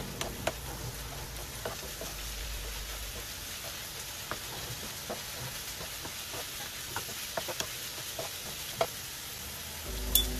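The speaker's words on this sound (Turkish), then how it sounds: "1 yemek kaşığı biber salçası, 3 yemek kaşığı da domates suyu ekleyelim. Ve kokusu çıkana kadar kavuralım karıştırarak." Eggplant sautéing in a pan with pepper paste and tomato juice, a steady low sizzle broken by scattered soft ticks and clicks as it is stirred, with no talking.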